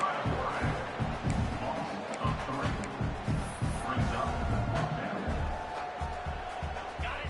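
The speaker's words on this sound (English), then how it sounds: "This Boise State crowd bringing the noise. It's deafening here on third down." Loud, dense roar of a Boise State college football stadium crowd during a third-down play against Fresno State, a continuous wash of cheering and shouting with swelling bursts, sustained throughout.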